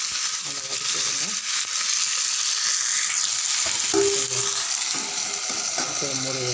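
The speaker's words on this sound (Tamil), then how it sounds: "நல்லா வதக்கி விடுங்க." Chopped tomatoes sauté in a pan for a garlic tomato chutney. They make a loud, constant sizzle and hiss, with intermittent scraping and stirring sounds from a spoon.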